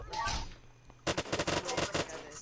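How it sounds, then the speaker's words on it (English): Rapid burst of gunfire in the Unturned video game, a sharp cluster of close, loud shots after a quieter stretch with a voice speaking. "Oh, shoot, someone's shooting."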